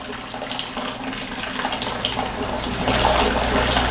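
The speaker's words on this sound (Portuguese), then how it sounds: "E enchendo o balde somente do líquido." Homebrew beer wort, the liquid separated from the malt husks, drains from a pot into a bucket in a steady, close splashing pour that grows slightly stronger toward the end.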